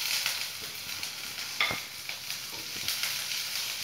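Ginger frying in oil in a pan for a restaurant-style paneer chilli at home, giving a steady close sizzle with a few soft stirring scrapes and no talk.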